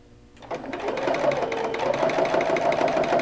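A domestic sewing machine stitching an embroidered bug design on a bag, starting after a short quiet moment and then running steadily and loudly with a continuous mechanical whir and rapid needle rhythm.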